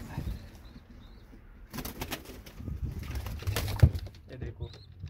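Pigeons coo softly in a loft during winter, where pairs are raising young, with low repeated calls, a few wing flaps and bird chirps mixed with background voices.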